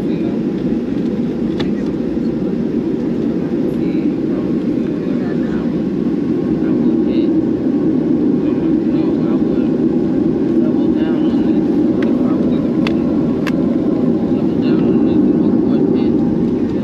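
A Delta airliner takes off from runway 8 right at Miami. The engine roar is a loud, continuous low rumble that holds steady throughout, with occasional faint clicks above it.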